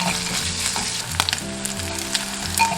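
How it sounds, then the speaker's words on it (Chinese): Scallion whites, ginger slices, dried squid and dried scallops frying in a little oil in a clay pot, giving a loud, continuous close sizzle broken by occasional stirring scrapes. "砂锅里倒入少许食用油，加入葱白、姜片、海鲜干货，"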